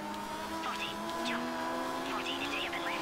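Race cars in the rally game Dirt 3 drive with a steady engine drone and brief tire chirps throughout, with someone talking over the racing.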